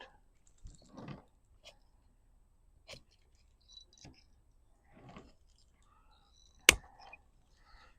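Pruning shears cutting a branch from a windswept bonsai, heard as a few quiet clicks and rustles before one sharp, close snip near the end, in a very quiet room.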